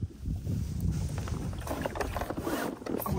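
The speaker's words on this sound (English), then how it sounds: "Wind is blowing me ashore here." Wind gusting across a Perception Outlaw 11.5 fishing kayak on open water, a loud, rough rumble of wind buffeting the microphone, continuous for a few seconds with no voices.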